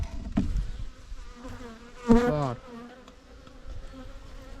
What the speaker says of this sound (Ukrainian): Є тут трішечки бджоли. Небагато, але є.